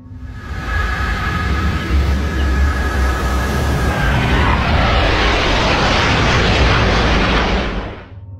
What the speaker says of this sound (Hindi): कुछ फाइटर जेट इस गोलाकार विमान का पीछा कर रहे थे।